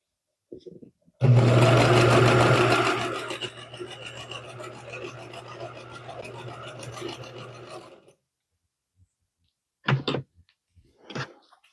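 Home sewing machine stitching fabric, a loud steady motorized whir for several seconds that slows and stops, followed by a few short snips of scissors cutting near the machine.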